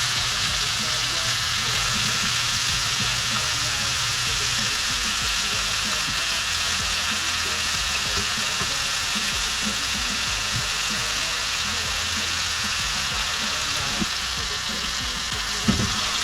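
Steaks sear in a frying pan with a loud, steady sizzle and spatter that runs unbroken throughout, close up, with a faint low rumble underneath.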